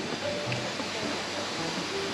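A real waterfall on an outing near Chiang Mai, Thailand, gives a steady, dense wash of falling water that holds at an even level throughout, with no voices over it.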